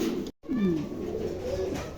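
Pigeons coo in soft, rolling calls close by, repeating over a low ambient background with a brief dropout.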